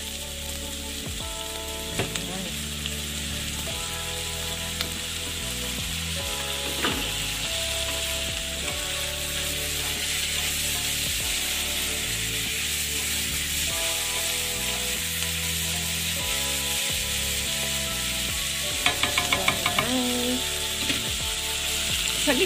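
Food sizzles steadily in a hot pan with dark sauce, with occasional stirring and scraping against the pan, loud and continuous with no talking.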